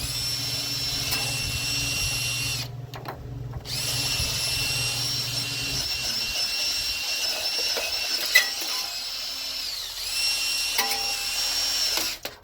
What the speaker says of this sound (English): I normally clean my surface with a drill